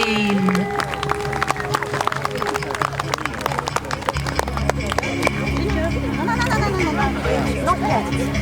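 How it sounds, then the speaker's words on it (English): Steady crowd applause for the Homestead Dog Agility Team at the Hotham Park Country Fair, a dense patter of outdoor clapping lasting throughout, with an announcer speaking over it. "Huge round of applause for Homestead Dog Agility Team."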